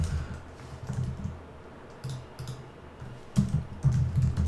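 Rapid keystrokes on a computer keyboard while writing HTML and CSS code, bursts of close clicking clatter separated by short pauses, with a heavier flurry near the end.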